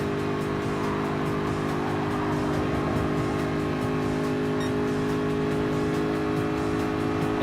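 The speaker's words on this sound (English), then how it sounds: "Many Group 3 cars are still racing around the track" Group 3 race cars lap a track in Gran Turismo Sport, several engines droning and revving together in a continuous, steady roar, loud and with no talk.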